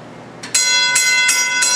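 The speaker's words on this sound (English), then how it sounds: "A bell." An antique horse-drawn fire engine's warning bell rings loudly and close by, four bright metallic strikes in steady succession, each note ringing on between hits.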